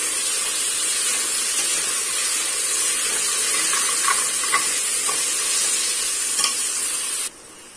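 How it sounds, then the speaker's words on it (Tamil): Coriander and mint leaves saute in a hot pan for a meal maker rusk biryani, giving a loud continuous sizzle and hiss with a few soft stirring clicks, then cutting off near the end; no talking. "இந்த அளவுக்கு மல்லித்தலை, அதே அளவுக்கு புதினா தலை இதையும் நல்லா வதக்கி விட்டுறலாம்"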